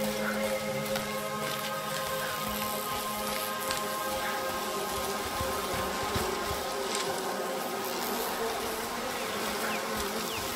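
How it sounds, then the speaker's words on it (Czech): Dense, steady buzzing of a bee swarm fills an outdoor scene in A Plague Tale: Requiem, a continuous close drone with faint rustling beneath and no voices. "že tady jsou ty včely, že jo."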